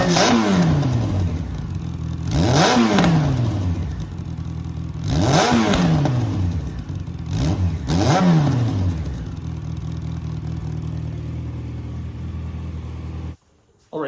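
A 2008 Yamaha FZ1 motorcycle with a cheap aftermarket eBay muffler runs close by, giving several loud throttle blips that rise and fall over a steady idle rumble before it cuts off abruptly near the end.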